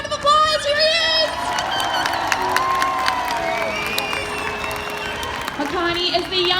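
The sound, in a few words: audience applause for orca Makani at Sea World show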